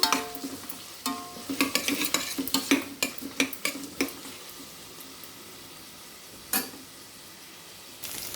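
Onions with ginger-garlic paste fry in a pan for a mushroom curry, a steady sizzle under a run of quick spatula scrapes and clinks against the pan, close and moderately loud, with a lone knock near the end.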